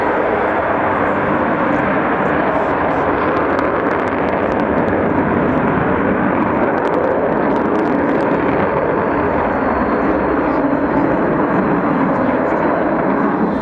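A loud, continuous roar of an Avro Vulcan B2 jet bomber's engines fills the air during a flying display at Waddington, steady and powerful throughout.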